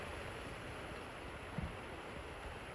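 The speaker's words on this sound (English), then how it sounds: "it's pouring rain" Heavy rain pours outdoors as a faint, even hiss that holds steady throughout, broken only by one soft thump partway through.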